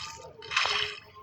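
Splash effect in the video game Roblox Rivals, a short bright watery splatter swelling and fading within about a second.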